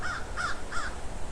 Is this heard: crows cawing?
yes